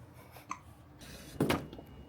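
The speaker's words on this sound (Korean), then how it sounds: "딸꾹질 하면서 똥까지 싼 이 소리." A 50-day-old baby hiccups softly during an outing, a brief faint hiccup followed by a louder gulping burst, heard close against quiet background hiss.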